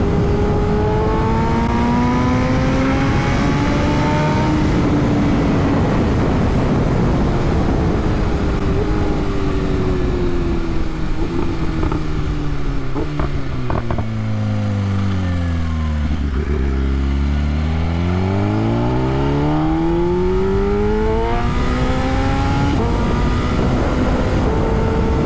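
BMW S1000RR motorcycle accelerating hard, a loud close engine wail climbing in pitch through gears, dropping and surging again, with wind roar throughout and no talk.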